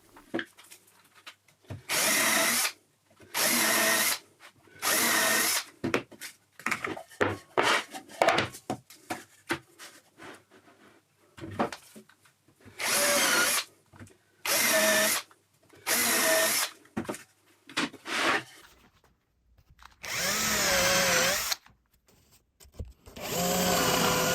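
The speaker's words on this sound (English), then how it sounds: "used the drilling guide to drill out the counterbores for the dowels" A power drill whirs in repeated short bursts, boring dowel counterbores into birch plywood with a drilling guide, with quieter scraping and handling sounds between bursts and a longer run near the end.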